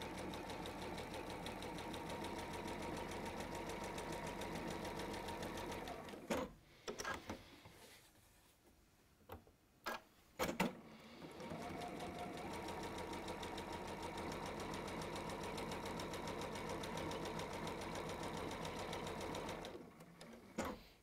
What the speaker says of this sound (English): We're going to sew 1/4 inch either side.